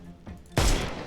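Gunfire in the Sherlock Holmes Chapter One video game: a soft thump, then a loud, sharp burst of shots that rings out and decays over the second half.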